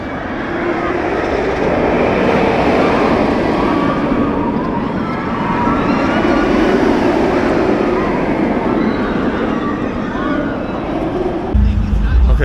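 Blue Streak, a wooden roller coaster at Cedar Point amusement park, rumbles loudly and continuously as the train runs along the track, with riders' screams and shouts mixed in throughout.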